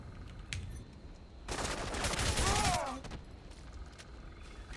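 Gunfire in Crysis Remastered: a sustained burst of rapid automatic fire from a heavily recoiling weapon, loud and dense for about a second and a half, set against quieter game ambience before and after.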